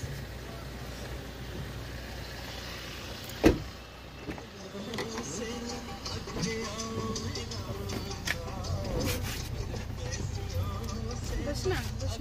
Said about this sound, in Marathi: गाडी वळून घेऊ राहिला आहे दीदी